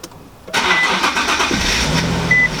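A crash-repaired Nissan 370Z engine kicks in after a half-second of quiet, then holds a steady, loud running drone with a faint whine riding on top, close by and free of talk.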